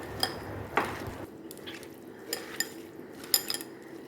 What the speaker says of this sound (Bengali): এবার থলের সাথে এটা সম্পূর্ণটা ভালো করে মেখে নেব এই যে ভালো করে চটকে মেখে নিতে হবে